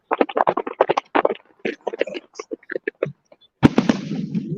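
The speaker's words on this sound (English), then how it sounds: "Yeah, these are some big fireworks going off now." Big Memorial Day fireworks at the Rose Festival opening display: a rapid string of sharp crackling pops, a brief pause, then one loud boom with a lingering rumbling tail.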